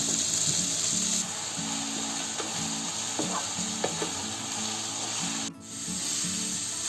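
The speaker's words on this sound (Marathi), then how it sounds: "आता त्याच्यामध्ये हे स्वच्छ साफ करून धुतलेले बोंबील टाकते" Cleaned bombil fish dropped into fenugreek leaves frying in a pan, giving a steady close sizzle with scattered clinks and a brief scraping rustle near the end.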